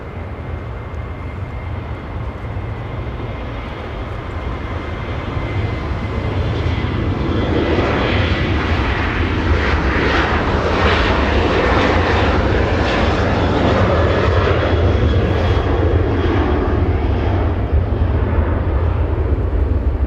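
An airliner takes off from runway 24 left at Los Angeles International Airport, its engine roar building steadily from a low rumble to a loud, sustained broadband blast that holds strong to the end.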